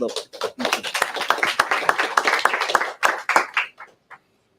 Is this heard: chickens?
no